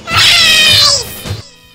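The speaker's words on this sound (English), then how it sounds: "not talk about the meowing I hear over the fence right now" A cat meows loudly and close in VRChat, one long drawn-out call that slides downward, followed by a shorter, fainter meow.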